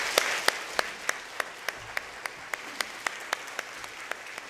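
Regular, evenly spaced claps ring out one after another, joined by soft applause early on, as a Korean Presbyterian church congregation in Detroit welcomes new members during Sunday worship.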